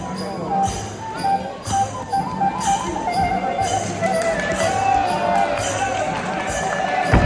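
A crowd of boxing fans at a Thai boxing event claps and cheers in a noisy, reverberant venue, with voices and hall noise mixed through steady applause.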